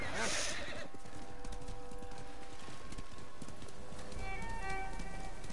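A horse in the samurai video game Ghost of Tsushima whinnies once near the start, followed by steady hoof clip-clop and faint background game ambience, with no voice over it.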